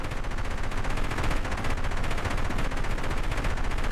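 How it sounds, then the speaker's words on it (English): A helicopter's autocannon fires in a video game as a rapid, continuous stream of heavy shots at a fast, even rhythm, loud and sustained throughout. "just look how good the autocannon is"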